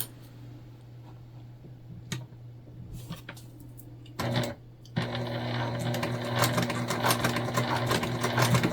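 A sewing machine stitches panels of a multi-panel fabric tote bag, starting with a few short clicks and stops, then running in a brief burst before settling into a long, steady, loud whirring run.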